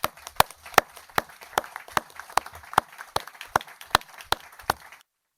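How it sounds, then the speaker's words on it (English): Sharp, evenly spaced claps ring out in a San Mateo County Board of Supervisors meeting room, a thin round of applause of about a dozen distinct hand claps over a faint room hum before cutting to silence. "can we give Sheena a big round of applause?"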